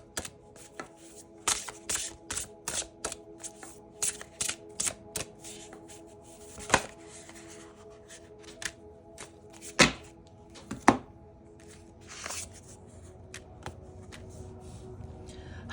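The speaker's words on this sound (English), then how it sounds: "Let's pull a final card from the Wandering Heart." An oracle deck called the Wandering Heart is shuffled, a fast run of crisp, close card slaps and riffles that slows into scattered taps as a single card is drawn, with no voice over it.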